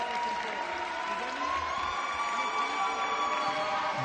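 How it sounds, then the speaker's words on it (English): A French crowd at a chessboxing world championship final cheers and applauds a win in a continuous, dense roar with whistles, steady and moderately loud throughout. "Big pop from the French crowd."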